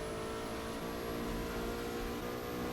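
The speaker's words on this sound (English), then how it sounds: "can tell this is the V8 version of it." A V8 car engine in Burnout Paradise revs hard and steadily, a loud continuous racing drone held at high pitch with no other sounds.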